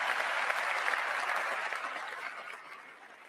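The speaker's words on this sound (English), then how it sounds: "everybody stood and cheered at that" A standing audience claps and cheers in a dense burst of applause that starts strong and gradually fades over a few seconds, with no speech over it.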